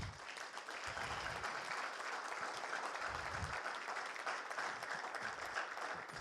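Audience applause fills an event hall, a dense, steady clatter of many hands clapping throughout, loud and sustained without letting up.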